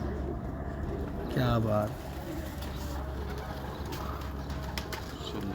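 Pet racing pigeons in a loft coo in a low, rounded burst near the middle, with someone talking briefly and steady background hum around them.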